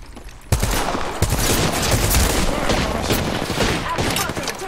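Rapid bursts of automatic gunfire from the Apex Legends video game, loud and close, rattling continuously with dense overlapping shots after a sudden onset.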